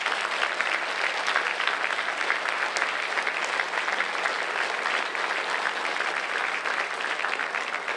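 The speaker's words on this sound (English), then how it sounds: "So just another round of applause for our alumni." A school audience applauds alumni at a high school Flag Day ceremony, with steady, dense clapping that holds at an even level for several seconds without a break.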